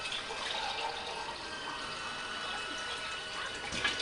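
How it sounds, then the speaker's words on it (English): Water poured into a pot of beer beef stew, a steady broadband rush of filling liquid lasting several seconds at moderate level, heard up close with no talk. "add our water"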